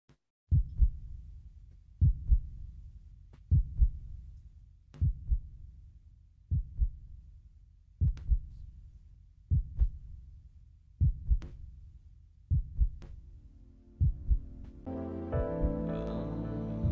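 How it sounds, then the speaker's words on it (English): A steady heartbeat thumps in paired lub-dub beats about every one and a half seconds, deep and close, during a quiet guided meditation, with a low rising drone entering at the end. "Now listen to the heartbeat now."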